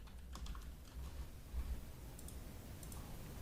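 Someone types on a computer keyboard in a quiet room. A few soft, scattered key clicks sound faint and close, with no talk.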